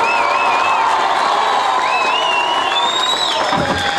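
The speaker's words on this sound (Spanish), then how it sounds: "¡Fuerte el aplauso!" A concert crowd cheers and applauds for a band with the Ballet Santa Cecilia, a dense, steady roar of clapping, shouts and whistles that carries through the whole stretch.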